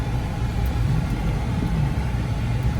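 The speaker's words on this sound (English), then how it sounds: "Let's put it in drive and go around the lot." A Mercury Mountaineer SUV with a 4.0L V6 pulls away around a car lot, its steady low engine hum running evenly and fairly close throughout.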